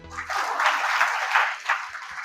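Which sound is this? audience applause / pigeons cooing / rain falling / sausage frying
audience applause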